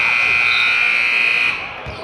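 A basketball game buzzer sounds at halftime in a boys' high school game, a loud sustained electronic tone lasting about a second and a half before cutting off, over the room's crowd noise.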